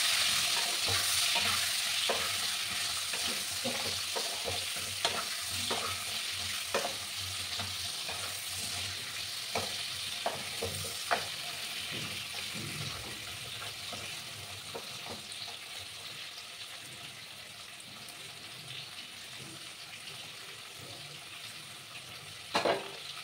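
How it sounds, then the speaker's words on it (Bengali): Pieces of pointed gourd frying with a little salt in a pan over a gas flame, a continuous sizzle broken by repeated scraping stirs, close and moderately loud, no voices. "পটলগুলোকে আমি কিছুটা সময় নিয়ে একটু লাল করে ভেজে নিচ্ছি"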